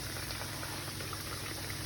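A steady, quiet sizzle and bubbling of frying oil as Spanish-style pastelillos (pastries) fry, with soft crackles throughout, continuous and even with no voices.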